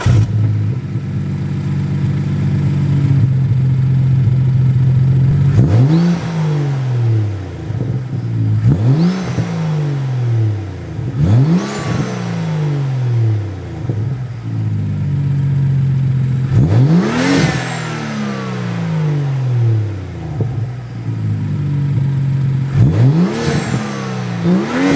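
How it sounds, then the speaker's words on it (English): A BMW 435i turbo engine fitted with an Injen intake revs repeatedly with the hood closed, heard up close and loud: about six sharp revs that climb and fall back over a steady idle. "so you guys can hear how loud the turbo actually sounds"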